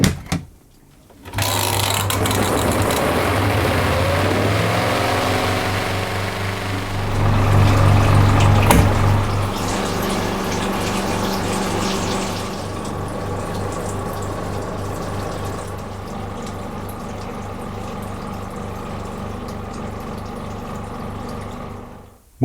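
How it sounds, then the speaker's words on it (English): A Leisurewize Portawash portable washing machine spinning a small load while draining its wash water, giving a steady motor hum with a louder surge early on, then a continuous whirring drone with sloshing water throughout. "I'll spin that and at the same time I'll start to drain the wash water from the wash"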